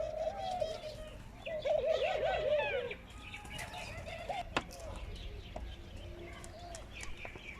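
Large birds give cooing, warbling calls in bursts over a low outdoor rumble, with faint wing flaps and clicks; a person speaks softly in the background.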